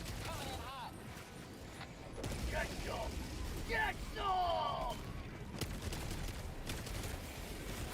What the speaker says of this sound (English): Strafing run that group of dudes.